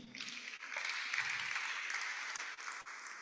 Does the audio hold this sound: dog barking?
no